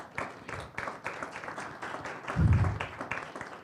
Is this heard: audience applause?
yes